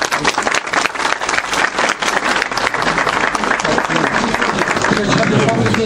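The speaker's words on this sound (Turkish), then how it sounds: "Evet, alkış. Yapalım." Crowd at the opening of a village association in Avanos, Turkey, claps loudly and continuously, a close, busy patter of many hands with voices mixed in underneath.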